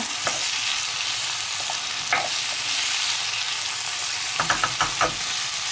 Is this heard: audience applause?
no